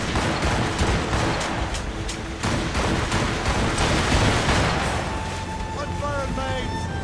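Gunfire in the Assassin's Creed Rogue video game, a dense rattling barrage of shots and booms under shouting voices, fading toward the end.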